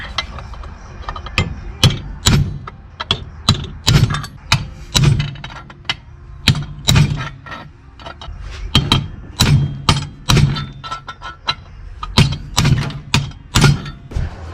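Repeated hand hammer blows on a metal turbo manifold flange, irregular but steady, loud and close, with brief pauses between bursts of strikes.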